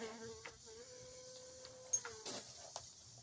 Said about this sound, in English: Uh-oh, there's a bee somewhere.